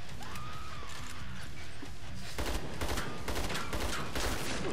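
Rapid shotgun fire in Killing Floor 2, on the Moon: a dense fusillade of loud, close blasts starts about halfway through and keeps going, following quieter game noise.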